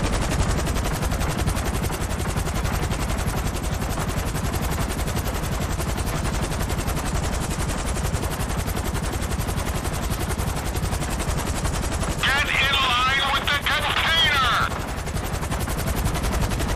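A helicopter roars through a battle in Grand Theft Auto 5 while rapid automatic gunfire rattles almost without a break. The whole stretch is loud and dense, and a brief higher whine cuts in near the end.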